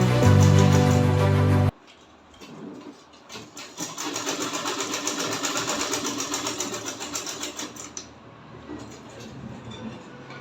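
A sewing machine stitches a reversible bucket hat in a rapid, even mechanical whir that runs for several seconds near the mic, stops, then briefly resumes more quietly after a loud burst of another sound at the start.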